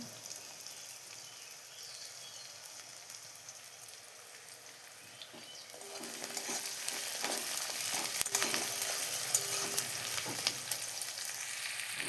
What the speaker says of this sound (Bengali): তেলের মধ্যে পেঁয়াজ কুচি দিয়ে দিলাম এবার পেঁয়াজটাকে পুরো লাল লাল করে ভেজে নেব